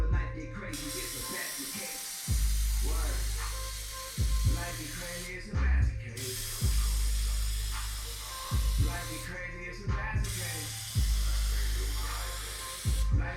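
Plasti Dip aerosol coating sprayed onto car badges in repeated bursts, four loud hissing sprays separated by short pauses, with someone talking between and over them.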